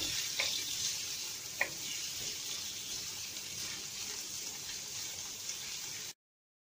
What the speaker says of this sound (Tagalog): Tayo lang po natin maluto ng konti ang ating onion.